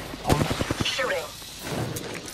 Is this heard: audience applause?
no